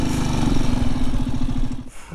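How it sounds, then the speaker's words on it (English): A Halcyon 450 motorcycle engine idles with a steady, rumbling low-pitched throb, close and loud, easing off briefly near the end. "Damn, I love this motorcycle."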